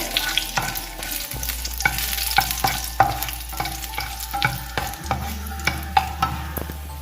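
Fenugreek powder and spices frying in a pan for Kerala-style ripe mango curry, with frequent crisp spatula scrapes and clicks over a gentle sizzle and a steady low hum underneath.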